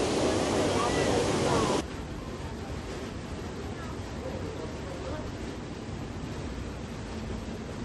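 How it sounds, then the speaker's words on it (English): Rushing water of a waterfall by the Amber Caves at Islands of Adventure theme park, a steady broadband wash that is louder for the first two seconds, then continues as a softer, constant roar. "there is a lot of running water here"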